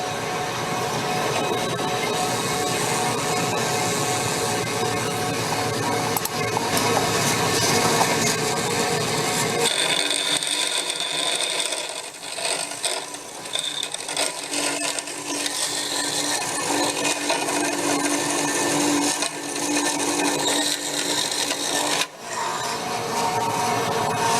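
A vertical bandsaw cuts a workpiece, running as a steady loud whine with a continuous grinding hum, then its tone shifts as the blade drags in the cut.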